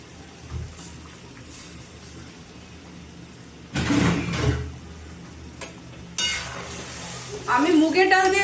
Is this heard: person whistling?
no